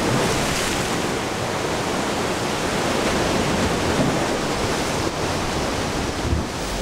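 Waves break in the surf zone along the rocky Galápagos shore, making a continuous loud wash of surf with faint swells in the roar.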